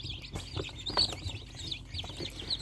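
Chicks on a poultry farm scurry about while eating boiled egg yolk, giving off steady high chirping and light clucking, close by and continuous over a low background rumble.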